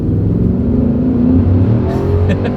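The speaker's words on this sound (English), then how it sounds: "let's see how quickly we can get our new 2024 Titan SV here up to speed." A 2024 Nissan Titan SV V8 pickup accelerates hard on a straightaway, its engine roaring loud and close as the revs climb steadily, with a short high chirp near the end.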